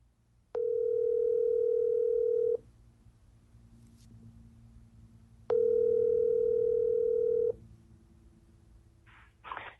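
An outgoing phone call produces a ringback tone: two steady, loud electronic rings of about two seconds each, separated by a quiet pause of roughly three seconds.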